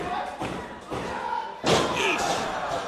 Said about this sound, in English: The Rumble up here in production, banging the boards for the Bearcat.